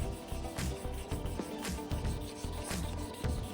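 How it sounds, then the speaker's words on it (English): A micro mesh pad sands resin on a lathe with close, rhythmic rubbing strokes, a soft scratchy rasp repeating back and forth several times at a steady pace. "Sanding like this every so often, which I really should have been doing with every micro mesh pad."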